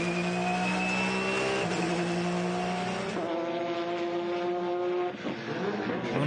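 A racing car's engine, heard onboard with the race leader accelerating out of the Hampton Downs hairpin during a 12-hour endurance race, roars loud and close through steadily rising gear pulls, then briefly dips and shifts near the end.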